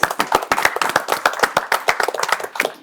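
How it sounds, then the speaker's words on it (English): Claps from a small audience at a debate show, distinct individual hand claps in a quick, fairly regular patter, close and clear with no talking. "Could we get a round of applause for Scott, please?"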